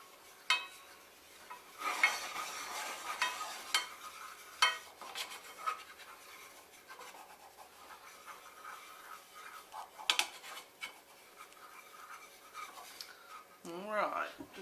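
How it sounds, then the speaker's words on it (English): Self-rising flour is stirred into batter in a bowl, giving soft, uneven scraping and swishing strokes that come close up and fairly faint, with a brief voice near the end. "Stir that together just a little bit"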